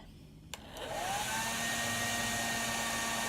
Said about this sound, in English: I'm gonna go ahead and turn on the blow dryer.